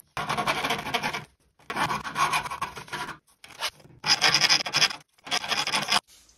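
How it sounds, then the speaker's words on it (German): Wood on a dining table being filed flat: five rasping strokes of about a second each come close and evenly, with short quiet gaps between them. "Also ich werde das jetzt hier flach feilen"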